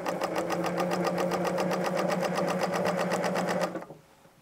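Sewing machine running steadily while quilting loops, a close rapid mechanical clatter with an even stitch rhythm that stops abruptly near the end, leaving a faint quiet hum.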